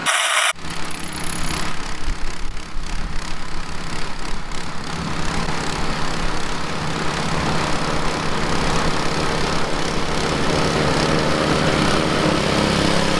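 A snowblower fitted with an impeller kit runs loudly and steadily up close, its engine roar and churning of thrown snow filling the whole stretch without pause after a brief quiet start.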